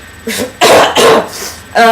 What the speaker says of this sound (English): I cannot believe you just coughed on me.